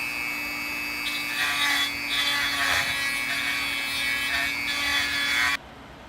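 Steady rasping of a metal file worked back and forth across an aluminum cylinder head being prepped for MIG welding, close and continuous for about five seconds before stopping abruptly.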